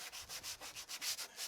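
Wet vehicle headlight plastic is rubbed by hand in quick, steady back-and-forth strokes, close and quiet, giving a rhythmic swishing scrub of roughly eight passes without speech.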